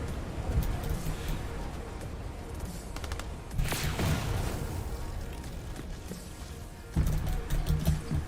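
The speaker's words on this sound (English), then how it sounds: "Forgot where that gunfire was coming from." Video game gunfire as a rattle of shots and bursts, heaviest in a couple of dense volleys, over a busy rumbling background.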